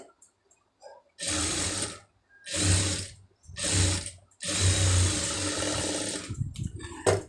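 Sewing machine stitching a folded quarter-inch strip for a hook-and-eye tape, running in four bursts: three short runs then a longer steady stretch, close and clear with no talk.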